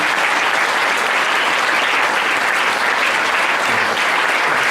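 Sustained audience applause at a community show, a dense wash of many hands clapping at an even, loud level for several seconds with no speech over it.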